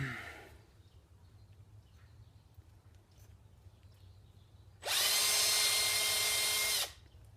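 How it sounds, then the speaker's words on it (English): A power drill whirs loudly and steadily for about two seconds while drilling a hole through a nail, then stops, with a quiet room hum before and after. "Once you drill your hole through, make sure that it's square."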